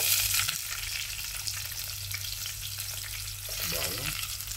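Onion sizzles and crackles in hot oil in a casserole pot, a steady close frying hiss with occasional stirring scrapes and no talking.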